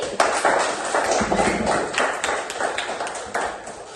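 Children clap together in a classroom. Busy, continuous clapping with sharp individual hits runs steadily through the whole stretch at moderate loudness.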